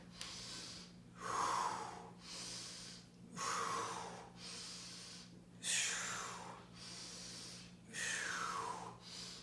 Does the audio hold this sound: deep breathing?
yes